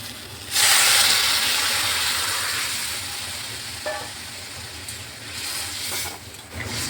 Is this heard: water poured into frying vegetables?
yes